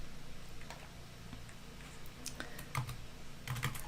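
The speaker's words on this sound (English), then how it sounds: "See, I'm typing a bit too fast there, so let's just slow that down." Quick typing on a computer keyboard gives a run of light, irregular key clicks, with a few louder taps near the end. The keystrokes are close and stand alone without any voice.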